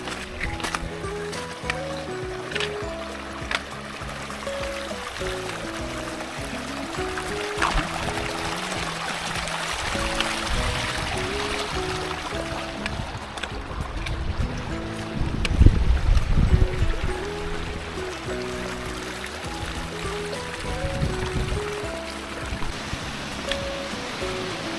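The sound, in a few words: river water running down a road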